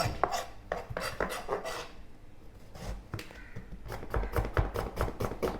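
Onions are cut on a board with a knife, quick rhythmic chopping taps close by, pausing briefly in the middle before speeding up again.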